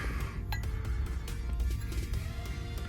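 Mid-century milk glass pieces clink and tap sharply several times as they are handled and turned over at a flea market stall, against a busy background murmur.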